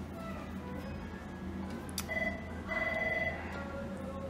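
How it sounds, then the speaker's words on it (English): Phones ringing in a busy room at a winery tour, heard as short electronic trills around the two- and three-second marks over steady crowd murmur and room noise. "I'm hearing phones ringing"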